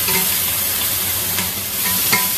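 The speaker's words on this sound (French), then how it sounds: "Je vais juste saisir les oignons." Onions searing in a hot pan, a close, bright sizzle with scraping stir strokes and crackles throughout.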